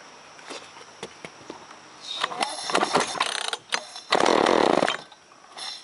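A chainsaw being pull-started with choke on and trigger held: a few sharp ratcheting pull strokes and clatters, then a louder burst as the engine briefly kicks before dying out, close by.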